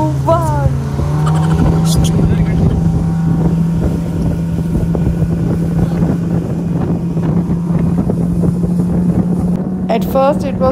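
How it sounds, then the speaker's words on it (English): A speedboat on Fatehsagar Lake in Udaipur roars with a loud, steady engine drone and buffeting wind across the whole ride, with voices shouting and cheering over it. "came our turn to sit on the speedboat and enjoy the ride"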